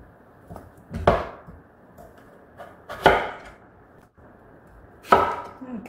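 A knife chops food into quarters, giving three sharp, separate thuds on a cutting board a couple of seconds apart, close and distinct over faint background noise.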